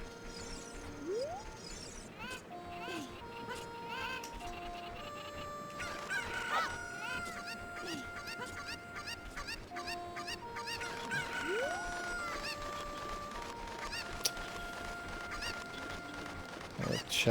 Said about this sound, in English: I'm just trying to find chickens right now.